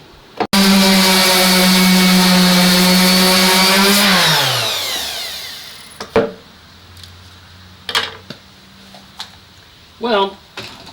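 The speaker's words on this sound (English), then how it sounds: "I finished with 60 grit sandpaper, and I've managed to smooth it out quite a bit." A power sander with 60 grit sandpaper works a chessboard of zebra wood, ash, cedar and dark walnut: a loud, steady buzzing whine for about four seconds, then it winds down, followed by a few scattered knocks and handling sounds.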